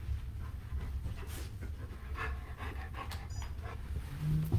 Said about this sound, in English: I better let the dog in.